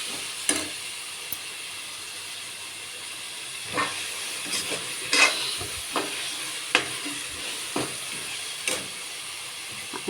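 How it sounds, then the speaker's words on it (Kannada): Methi greens and black-eyed beans frying and being stirred in a pan for pulao, a steady close sizzle with intermittent scraping clinks of the spoon against the vessel. "ಈಗ ನೀಟಾಗಿ ಫ್ರೈ ಮಾಡಿಬಿಟ್ಟು"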